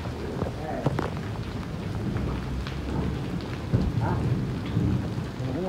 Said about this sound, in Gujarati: વરસાદ ચાલુ જ છે, ભેંસું બધી જો નાહી રહી